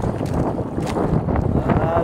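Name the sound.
strong amihan wind at sea from a boat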